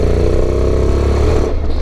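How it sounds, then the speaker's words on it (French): A Honda X-ADV motorcycle engine screams at full throttle off-road, a loud, sustained, strained roar that holds steady and then eases slightly near the end. "plein gaz, on sent le moteur hurler"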